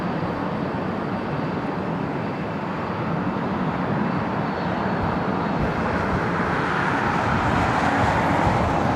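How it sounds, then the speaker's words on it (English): An Asiana Airlines Airbus A380 on its takeoff roll from runway 25 left at LAX gives a steady, broad engine roar that swells slightly toward the end, heard from a distance with no voices. "This is Asiana Airlines 201 taking off on 25 left to Seoul on this A380."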